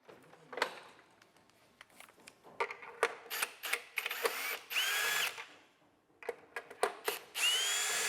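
A power screwdriver backs out four screws on the rear of a Martin Mac Ultra moving-head light during maintenance, with repeated short whirring bursts close up and small clicks and handling noise between them.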